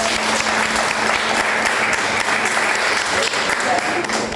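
Congregation applauding in a church service, a broad continuous roar of many people clapping for several seconds, with some voices mixed in underneath.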